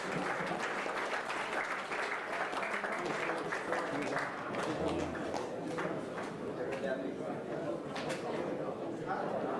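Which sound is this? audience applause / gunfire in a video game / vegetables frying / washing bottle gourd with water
audience applause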